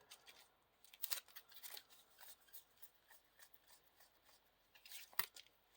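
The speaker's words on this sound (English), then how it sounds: "Shuffle the encounter deck" An encounter deck for the Lord of the Rings card game is shuffled by hand, a quiet, close run of crisp riffling and snapping card bursts stretching across the whole stretch, with no voices.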